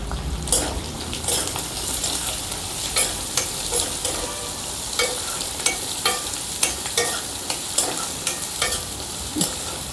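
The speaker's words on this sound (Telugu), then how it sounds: "కొద్దిగా 1 నిమిషం పాటు వీటిని వేపుకుందాం." Finely sliced onions and garlic cloves fry in a pan, with a continuous bright sizzle broken by regular sharp taps and scrapes of stirring.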